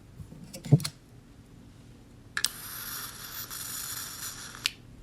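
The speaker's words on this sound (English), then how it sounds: "This is the sound of me lighting votives around my apartment." Votive candles being lit around an apartment: a short near strike and flare, then a sustained hiss for about two seconds, ending in a small click, with no talking.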